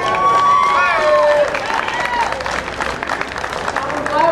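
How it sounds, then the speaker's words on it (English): Crowd applause and cheering for a youth activist at an outdoor justice rally, a lively burst of clapping mixed with whoops and chatter, loudest at the start and then thinning into scattered claps and voices. "Give her a round of applause, please."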